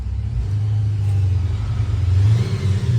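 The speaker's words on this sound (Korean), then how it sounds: "1단을 하면은 이런 느낌입니다 엑셀을 한번 밟았을 때" A Jeep Wrangler with a variable exhaust sound speaker set to its first step, producing a steady low engine rumble as the throttle is pressed once, rising slightly toward the end, heard alone and close.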